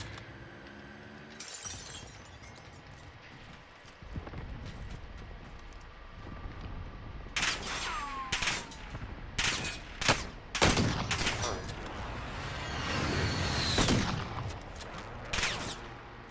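Gunfire in the Warzone video game: scattered sharp cracks and a few quick bursts of shots with shattering noise mixed in, quiet at first and then growing louder and busier.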